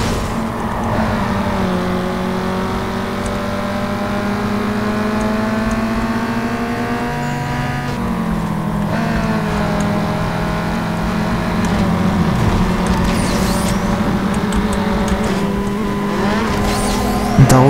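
Car engine holding a steady drone in first gear in Need for Speed Underground 2, harmonic whine climbing and dropping as the car shifts load, loud and continuous with faint background game noise.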